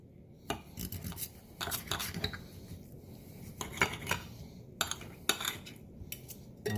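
Knife and fork scraping and clinking against a plate while seasoned steak from a Ninja Foodi pressure cooker air fryer is cut open, several sharp intermittent scrapes and taps, close and alone.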